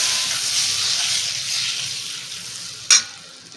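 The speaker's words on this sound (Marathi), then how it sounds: "थोडस हिंग अर्धा चमचा हळद आपण मिक्स करून घेऊ" Asafoetida and turmeric stirred into hot, sizzling oil for a red amaranth and black pea vegetable dish, giving a steady close frying hiss with one sharp scrape or clink near the end.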